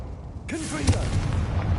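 A Confringo fire-blast spell in the Hogwarts Legacy video game, heard as a sharp whooshing burst with a rising swish that thuds into a single blast, followed by a short rumbling tail and faint crackle.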